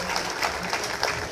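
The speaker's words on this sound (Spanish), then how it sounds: "Un aplauso." Crowd applause at a town festival in Pasaquina, a steady, moderately distant wash of many hands clapping, brief and continuous.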